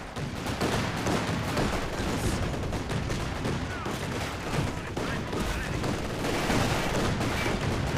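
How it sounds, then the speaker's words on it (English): A Maxim machine gun fires in the video game Company of Heroes 2, continuous dense gunfire and battle noise layered with other weapons throughout. "come on, Maxim, shoot!"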